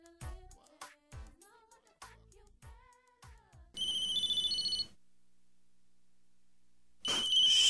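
A phone ringtone trills in short repeated bursts within a song skit, after plucked melodic notes, then cuts to silence before ringing resumes loudly.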